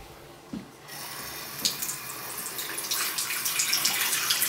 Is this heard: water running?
yes